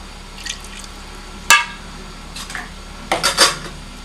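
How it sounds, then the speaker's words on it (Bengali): Milk goes into a pot of Old Dhaka–style chicken tehari: sparse metal clinks of a spoon against the pot and a brief liquid splash, with quiet gaps between, no voices. "আর দুধ দিয়ে দিচ্ছি কিছুটা"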